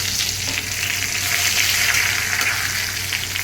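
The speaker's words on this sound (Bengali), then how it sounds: "এবার এখানে আমি 2টো তেজপাতা দিয়ে দিলাম ফোড়নে" Bay leaves sizzle and crackle in hot ghee, a steady, close frying hiss that holds for a few seconds with no talking.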